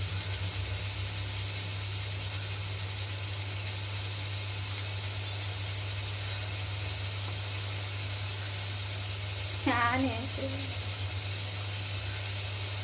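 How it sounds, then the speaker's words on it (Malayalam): A pressure cooker whistle lets out a brief warbling steam blast near the end, over a steady loud hiss and hum, with a single spoken word nearby. "അപ്പം ആദ്യത്തെ വിസിൽ വന്നിട്ടുണ്ട്"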